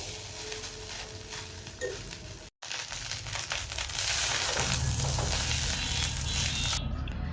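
Fried rice with meat pieces and eggs frying in a hot pan, the sizzle steady and loud, with scraping, rustling stirring strokes that grow denser and more continuous toward the end.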